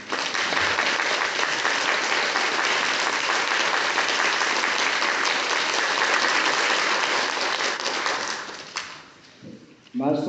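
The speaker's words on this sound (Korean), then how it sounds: "오늘 미사 집전해 주신 아론 신부님께 감사의 박수 드리겠습니다" A church congregation at Mass gives sustained, loud applause in thanks to the presiding priest, clapping steadily for about eight seconds before it fades out and a voice begins speaking.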